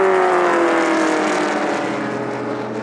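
Shelby race car roaring past at speed, a loud sustained engine note with a slowly falling pitch as it moves away, no voices.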